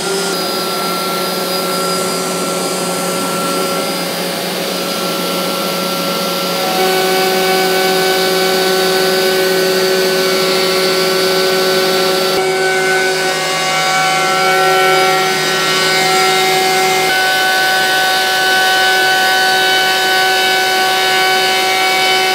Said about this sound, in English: the first cut we're going to do is this chamfered edge here using the 90-degree V cutter